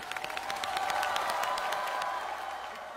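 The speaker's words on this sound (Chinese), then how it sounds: "好， 鼓掌。" An audience at a Beijing TV Spring Festival Gala stage show applauds in a steady, dense patter of clapping that holds at moderate loudness for several seconds.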